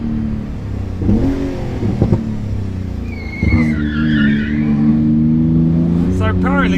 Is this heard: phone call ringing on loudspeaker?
no